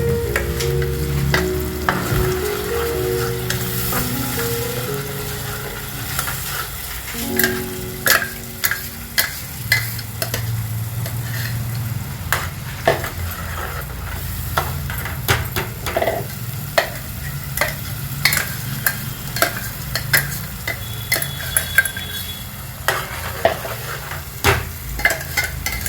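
Chole masala fries and sizzles in a pan over low heat, with a steady background sizzle broken by repeated sharp scrapes and taps of a spoon stirring against the pan.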